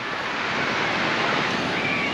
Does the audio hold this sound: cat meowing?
no